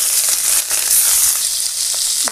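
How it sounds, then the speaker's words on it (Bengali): Fish frying in hot oil on a home cooking stove, a loud, steady crackling sizzle that stays close and continuous without any talk. "মাছগুলো ভেজে নিব, সবগুলো মাছ ভেজে নিব।"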